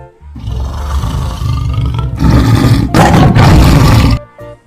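A plastic toy lion gives a loud electronic roar, a rough growling burst that swells, breaks briefly and surges again for several seconds before cutting off, heard alone with no talk.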